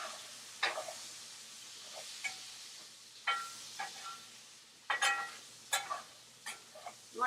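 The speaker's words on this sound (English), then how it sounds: "Bacon is in with the onions. We'll let that cook up and saute." Bacon and onions sautéing in a pan, a soft steady sizzle broken by several sharp spatula scrapes and clinks against the pan, close by and with no voices.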